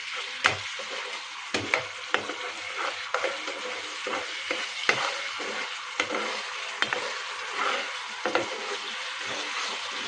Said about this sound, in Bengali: একটু নাড়তে হবে যেহেতু নিচে না লেগে যায়।